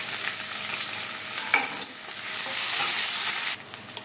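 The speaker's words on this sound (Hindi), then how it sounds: "यहाँ तड़के में मैं डालूंगी जीरा, तेज पत्ता, और ये जो प्याज कट करके रखे थे वो, और इसे भून लेंगे हम।" Chopped onions, cumin seeds and bay leaf frying in hot oil as a tempering, giving a steady, close, loud sizzle with a brief spatter and stirring, and no talking.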